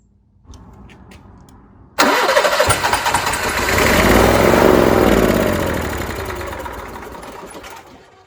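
An Onan Marquis Gold 5500 generator being cranked: a starter whirs briefly, then the engine catches and runs loud and close for several seconds with a steady droning roar that slowly fades, no voices.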